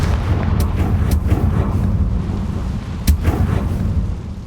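A Confringo spell blasts in Hogwarts Legacy, a loud rolling rumble with several sharp cracking bursts spread through it and one strongest snap near the end.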